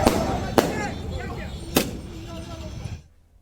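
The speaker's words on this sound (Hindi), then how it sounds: "ऋषिकेश में देर शाम आतिशबाजी के साथ जश्न मनाया गया।" Late-evening celebration fireworks set off by Congress party workers in Rishikesh: two loud, sharp bangs a second apart over a noisy crowd with people talking, then a sudden cut to quiet.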